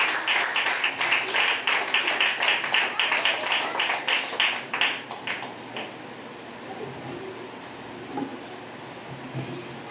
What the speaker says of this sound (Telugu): మన అయ్యగారిని గట్టిగా చప్పట్లు కొట్టి ఆయన స్వాగతం.